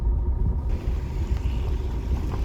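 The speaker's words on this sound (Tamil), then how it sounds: "லைட்டாக ஆக்சிலேட்டர் கொடுத்தா தான் வண்டி போகும்" A car pulls away on a slope with light throttle, a steady low engine rumble and drone heard from inside the cabin, even and unhurried with no voices.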